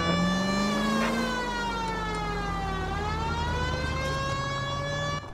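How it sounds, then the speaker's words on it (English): In the video game L.A. Noire, a police car's wailing siren sweeps steadily up and down, loud and close, over faint engine noise. "you put on the police siren, cars in front of you are going to pull right over"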